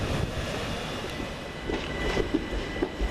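A Southern Railway Class 377 electric train runs through Preston Park station, a steady rumbling roll with faint clicks and squeals from the wheels, moderately close and free of talk.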